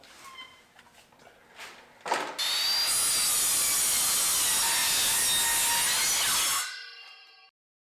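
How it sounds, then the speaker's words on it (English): A saw cuts wood at a 45-degree bevel for car ramps. Quiet handling knocks come first, then one loud, sustained cutting roar lasts about four seconds and ends as the blade whines down to silence. "Now I'm going to go ahead and change the saw to a 45-degree angle to add a bevel."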